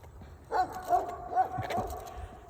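A dog gives several short whimpering yelps and a few barks in quick succession, fairly close and moderately loud, over a low indoor background hum.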